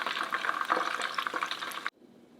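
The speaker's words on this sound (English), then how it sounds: "Deep fry for another 2 minutes until deeply golden and extra crispy." Chicken wings sizzle and bubble in hot oil during a second deep fry, a close, crackling frying hiss that cuts off abruptly near the end.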